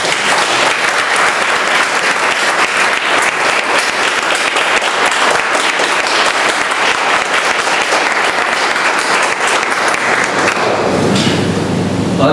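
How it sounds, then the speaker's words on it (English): A large audience at a Toastmasters club meeting gives a loud, sustained round of applause, dense and even for about eleven seconds before cutting off abruptly. "And I think she really deserves a huge round of applause."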